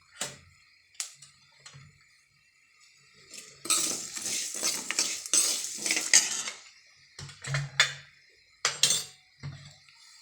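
Whole spices, including pepper, marathi moggu and mace, stirred over low heat in a pan for bisibelebath powder, giving scattered metallic clinks and scrapes in quiet bursts, busier in the middle, with no voices.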